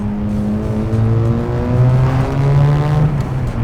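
A rebuilt rotary engine car on a stock exhaust drives under light throttle, its close, steady droning hum wavering gently in pitch with no talking over it.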